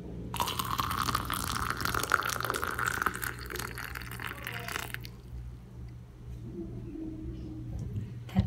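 Freshly boiled water, about 200 ml, is poured into a container for boldo tea, making a steady liquid trickle for several seconds that stops abruptly, followed by faint drips and a quiet low hum, close and soft.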